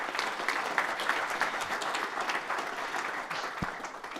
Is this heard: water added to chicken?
no